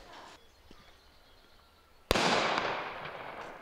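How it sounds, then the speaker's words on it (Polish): A single loud blast from a 120 mm fortress cannon at Boyen Fortress, arriving suddenly after a quiet stretch and trailing off into a long, rumbling decay. "A tak, takie armaty strzelały."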